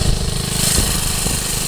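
A small engine with a worn, failing centrifugal clutch bogs and labours in a loud, rough, steady drone with heavy vibration, heard up close and alone.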